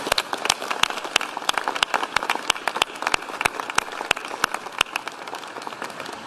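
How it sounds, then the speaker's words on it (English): Dense applause for athletes at a political speech, many hands clapping steadily at moderate distance, with a few sharper claps standing out over six seconds. "let us give them a round of applause"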